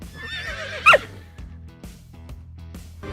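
A horse gives one short, shrill neigh up close, followed by soft hoof clip-clops and light rustling over a steady background.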